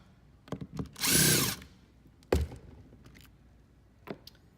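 Power drill backing screws out of the top of a PP123 micro pin nailer, one short whirring burst followed by scattered clicks and handling knocks, close and quiet.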